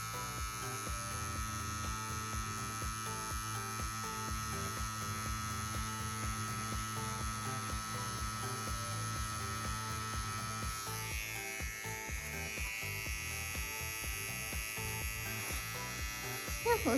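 A CNC WE wireless tattoo machine runs steadily at middle-range voltage, a continuous close buzzing hum shifting slightly in tone partway through while lining or shading silicone practice skin.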